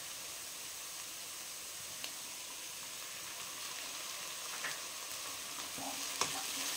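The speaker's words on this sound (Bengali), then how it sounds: "এবার একটু আঁচটাকে স্লো করে এর মধ্যে মিশিয়ে দেবো আদা রসুনের পেস্ট।" Ginger garlic paste fries with onions in a pan over low heat, giving a quiet, steady sizzle with faint hiss and a few soft stirring clicks. No one speaks.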